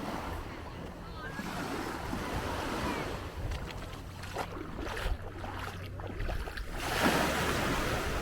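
Surf rolls in at Magens Bay beach on St. Thomas, a constant wash of waves and wind close by, with a swell near the end, while people talk over it.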